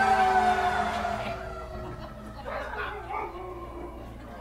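A service dog gives a few close barks indoors, loud and sharp at the start, then shorter yips and whimpers trailing off over several seconds.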